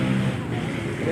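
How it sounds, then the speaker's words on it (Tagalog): A steady, droning engine rumble with wind buffeting the microphone, continuous and fairly loud throughout. "Rinig mo yung buwelo ng motor eh, no?"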